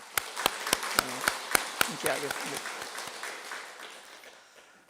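Church congregation at an Easter Sunday service clapping in time to a praise song, about eight sharp, even claps that fade into a softer tail, with a voice talking over them.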